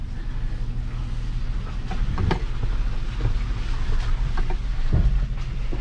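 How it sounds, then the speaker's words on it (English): Skid plate of a 2022 Nissan Frontier Pro-4X hitting rock off-road, sharp scraping thuds at intervals, the loudest near the end, over a steady engine rumble. "Hey, first skid plate hit."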